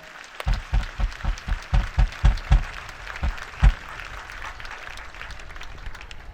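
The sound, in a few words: congregation applause at a church service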